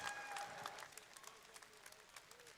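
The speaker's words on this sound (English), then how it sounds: "Give a massive round of applause" Audience applause for a European strongwoman champion in the under 64 kg class at a 40+ strongman contest, a steady patter of clapping from a crowd, moderately distant and fading slightly toward the end.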